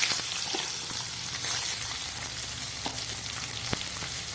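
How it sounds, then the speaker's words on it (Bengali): Prawns frying in a pan alongside potato, onion, garlic and green chilli give a steady close sizzle and crackle, with a few sharp pops and faint stirring scrapes, and no one talking. "চিংড়ি মাছটাকে একটু সাইড দিয়ে ভেজে নেব"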